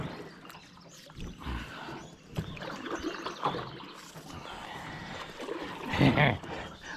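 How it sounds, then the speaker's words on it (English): Paddle strokes splash and drip in the water as a small boat is paddled quickly while chasing a turtle on a jugging trip, close and uneven, with a splashy burst near the end and occasional speech. "I'm gonna have to paddle faster to get that one."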